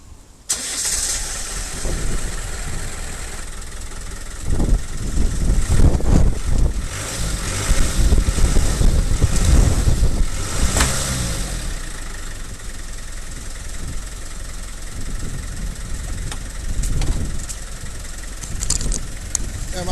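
Land Rover engine starting up and settling into a rough, rumbling idle outdoors in a yard, loud throughout with a voice briefly audible over it.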